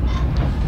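A Jayabaya executive passenger train runs along the rails between Surabaya Gubeng and Surabaya Pasar Turi, a steady low rumble of wheels and carriage noise heard from inside, continuous and fairly loud.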